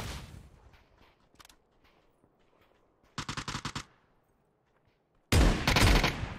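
PUBG gunfire, from a shotgun, comes in two tight bursts of rapid, loud blasts separated by near silence, the second burst heavier and closer.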